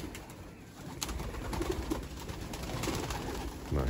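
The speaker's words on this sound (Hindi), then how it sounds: "उड़ार वाले कबूतर बाहर आ रहे हैं" Grizzled pigeons cooing steadily at moderate distance, soft repeated calls over a faint rustling background with occasional wing flutters.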